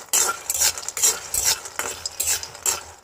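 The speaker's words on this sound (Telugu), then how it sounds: "చట్నీ పప్పు వీటిని సిమ్లోనే ఫ్రై చేసేస్తాను" Roasted chutney dal fries on a low flame while a spoon stirs it in rhythmic bursts of dry, rattling scraping, with brief pauses between strokes.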